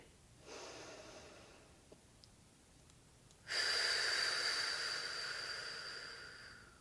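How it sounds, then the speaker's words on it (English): Two slow breaths drawn in through the nose during a breath-support exercise, a soft hissing inhale, a pause, then a longer, louder one, close and alone. "take 4 beats of breath nice and slowly through your nose"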